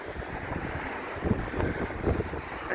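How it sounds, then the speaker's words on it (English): Outdoors at Blackpool, wind gusts buffet the microphone in low, uneven rumbling bursts, fairly quiet overall with no voices. "that wind's up again"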